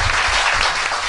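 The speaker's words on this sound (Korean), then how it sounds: "박수" An audience bursts into dense, loud applause throughout, a steady wash of many hands clapping at a talk show.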